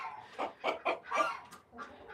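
Backyard ranch hens cluck in a short series of soft, nearby calls, a few rhythmic clucks followed by a brief pause and one more.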